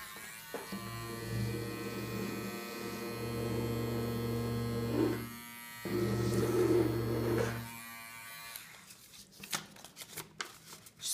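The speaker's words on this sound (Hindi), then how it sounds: "Trimmer, let's hit it." An electric trimmer buzzes steadily with a strong hum as it runs over a 10-rupee banknote, close and droning, briefly cutting out in the middle before stopping near the end, followed by paper rustling.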